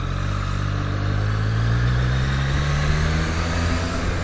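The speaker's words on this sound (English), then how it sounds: "Got caught up traffic." Cars passing in traffic nearby, a continuous engine rumble with a low drone rising slightly in pitch as a vehicle moves by.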